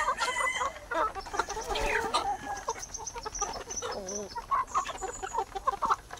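Native farm chickens clucking and cackling close by in a steady, busy stream, with a brief crow-like call mixed in among the flock's overlapping calls.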